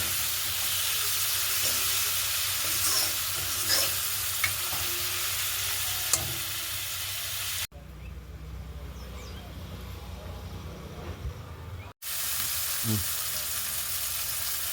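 Chopped onions and tomatoes sauté in a pan with a steady close sizzle and occasional scraping stirs; the frying cuts out abruptly partway, leaving a quieter stretch with some voice in the room before the sizzling returns.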